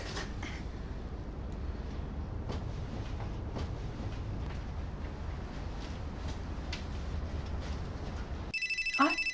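Near the end, a telephone rings with a short burst of electronic ringing, following a steady, continuous rumble of background noise.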